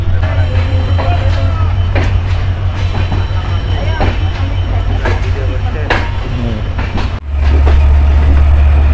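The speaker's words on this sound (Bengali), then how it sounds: "তিন মিনিটের যাত্রা বিরতি শেষ করে Chilahati express Natore railway station ছেড়ে গেল" Chilahati Express pulling out of Natore railway station in Bangladesh after a three-minute halt: a steady, loud low rumble of the moving train runs throughout, with rhythmic wheel clatter and knocks, briefly dipping near the end before resuming.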